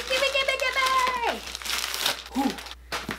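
Wig packaging is torn open by hand without scissors, giving close crinkling and ripping plastic noises while someone talks and exclaims over it.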